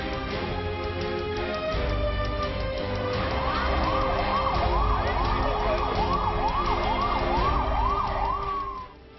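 Police and fire emergency vehicle siren in Beylikdüzü, a loud, close wail that rises and then cycles in rapid repeated sweeps over traffic rumble before cutting off.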